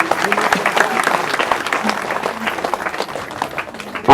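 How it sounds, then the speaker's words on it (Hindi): A crowd at a religious Bhagavat Katha gathering in a village claps loudly and steadily for a guest, with faint voices beneath the applause. "ताली उनके लिए।"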